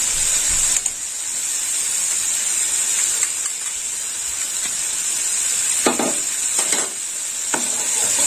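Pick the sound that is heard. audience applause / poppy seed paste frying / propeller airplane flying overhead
poppy seed paste frying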